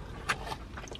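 Crunchy fried chicken tenders bitten into, giving a brief crisp crunch followed by a few faint crackling chews, close and quiet, with no talking.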